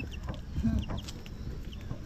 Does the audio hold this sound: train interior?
no